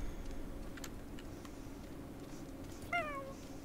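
In The Sims 4, on a horse ranch, a cat gives a single clear rising-then-falling meow near the end, after a stretch of quiet game ambience with soft ticks.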